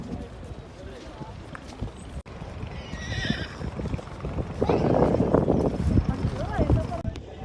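A horse at Mahudand Lake gives a whinny amid outdoor crowd noise and wind, with hooves clopping and people talking nearby.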